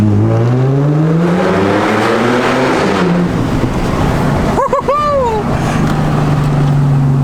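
An Audi S4 engine pulls hard under acceleration, its tone climbing steadily through the first few seconds, followed by brief sharp chirps and a steadier drone, with some voices present.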